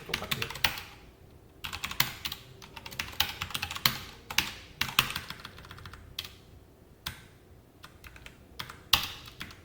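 Code being typed on a computer keyboard, steady bursts of close, crisp key clicks with short pauses between runs, no talking.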